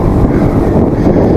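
Strong crosswind buffets a microphone while cycling the Laguna Loop near Tunggawi, a loud, continuous low rumble with gusty swells and no clear speech.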